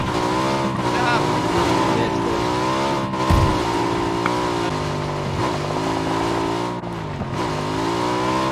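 A motorcycle engine in the PUBG video game revs and shifts pitch continuously, rising and falling as the bike accelerates, with players talking over it.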